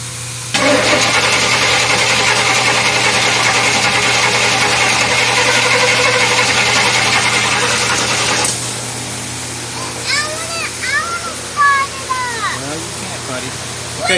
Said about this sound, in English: we're cranking the engine over to get the oil pressure up in the engine